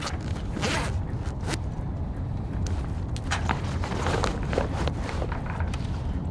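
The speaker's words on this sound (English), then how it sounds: "we have a big zipper, and we will just walk it from the stern to the bow" Large zipper on a trimaran's boom cover being pulled along from stern to bow, a long rasping run with a few quick tugs, close by over faint outdoor background noise.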